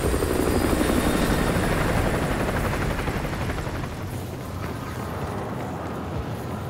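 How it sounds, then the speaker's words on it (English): An enemy helicopter in the Call of Duty Advanced Warfare video game flies overhead. Its rotor thumps heavily and steadily, loud and close at first, then fades a little as it passes, with no voices. "Enemy helo patrolling the perimeter."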